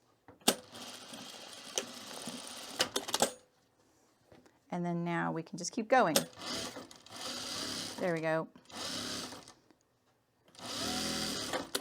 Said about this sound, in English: All right, so let's just sew this across.